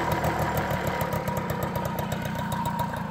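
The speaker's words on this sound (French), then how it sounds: "le ralenti est un peu bas" An MBK Mag Max moped engine idles a little low, with a steady, close, rapid putter that stays continuous throughout.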